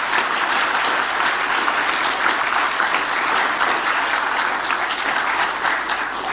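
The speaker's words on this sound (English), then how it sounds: "I think they deserve a round of applause" Sustained applause from an audience at a Queensland Australian of the Year awards ceremony, dense steady clapping filling the room at full volume throughout with no talk over it.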